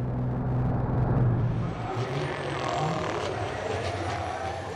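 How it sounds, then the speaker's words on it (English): Racing trucks pulling away from the start of an FIA European Truck Racing Championship race at the Red Bull Ring: a loud, continuous low engine roar that thins slightly as the pack moves off, with distant crowd and track ambience. "Away from the start of the first race, Jochen Hahn it was who grabbed the advantage, chased by Steffi Halm, with Gert Kuber running third"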